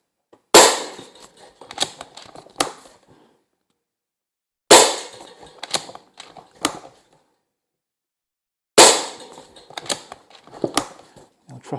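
Umarex Iconix .22 PCP air rifle fired indoors at a spinner target: three sharp cracks spaced a few seconds apart, each followed by several quick metallic clinks and rattles as the spinner turns, then silence.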